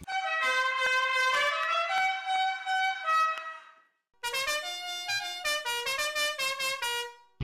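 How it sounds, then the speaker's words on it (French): Novelty musical car horn playing a bright, tuneful melody of sustained notes, fairly loud and close, with one long phrase, a brief pause, then a second run of quicker notes; no speech. "Changez le klaxon de votre voiture par l'un d'eux."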